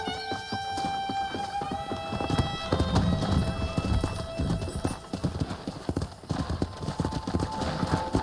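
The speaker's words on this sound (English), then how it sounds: "Let's see if we can't wrangle some horses." Horse hooves clip-clop in a quick, steady rhythm on hard ground in Red Dead Redemption, close by, with a horse whinnying early on and some tonal background sound.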